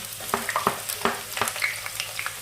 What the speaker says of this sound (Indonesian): Ini saya mau menggoreng bawang.